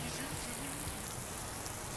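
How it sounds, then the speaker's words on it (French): Heavy rain pours down in a dense, even hiss with no letup, close by and filling the whole stretch. "il pleut sa mère"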